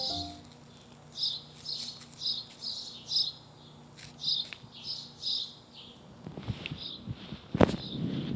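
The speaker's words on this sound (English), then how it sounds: "a lot of birds, as you can hear now" Birds chirp outdoors in a garden in Calgary in repeated short, high phrases at a steady rhythm, fairly close, with rustling and footsteps near the end.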